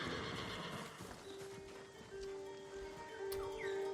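A horse whinnies in Ghost of Tsushima, its neigh rising over the steady clip-clop of hooves. Both sound moderately close against a faint rustling outdoor backdrop.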